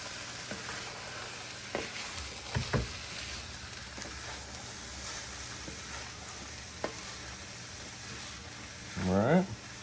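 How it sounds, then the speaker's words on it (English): Squash, onions and peppers sizzle quietly in a pan under a soft, steady hiss, with a few light scrapes and knocks from a stirring utensil and a brief louder clatter near the end. "And then we're going to stir this all together."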